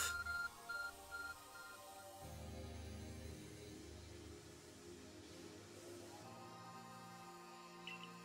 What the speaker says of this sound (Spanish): El móvil está reaccionando.